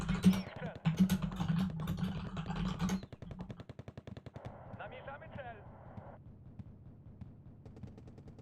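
Automatic fire crackles in bursts from a Wargame: Red Dragon battle, with rapid repeated shots at first, then a sparser sputter of distant gunfire and other game effects beneath it.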